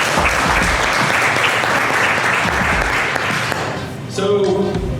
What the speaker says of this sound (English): give a quick round of applause for Steve